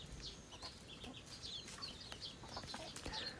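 A flock of chickens clucks softly at a distance, scattered short calls repeating over a steady low outdoor background.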